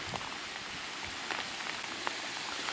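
Steady heavy rain with a thunderstorm patters on a surface close by while fishing, a dense hiss of drops with occasional louder splashes.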